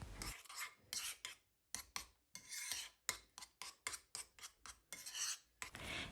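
A teaspoon scrapes and taps against a bowl while yogurt is added to a homemade face mask. The scraping comes in short, rasping strokes with brief pauses between them, close up, with no talking.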